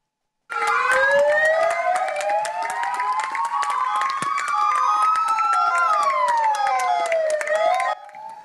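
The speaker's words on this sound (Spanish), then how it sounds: "Con las sirenas de las ambulancias de las que Manu era conductor" Multiple ambulance sirens blare together for several seconds at a memorial tribute, their tones sweeping slowly up and down in overlapping loud wails before cutting off.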